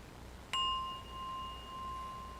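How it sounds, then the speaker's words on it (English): A single bell struck once during a worship service, ringing with a clear, sustained tone that slowly fades and pulses over a quiet room, with no talking. "I send my heart along with the sound of this bell"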